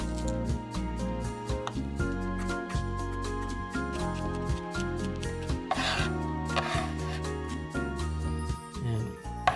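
Garlic cloves are cracked with a kitchen knife handle for Roman-style artichokes, a series of close, sharp knocks and crunches over a wooden surface, repeated in quick bursts.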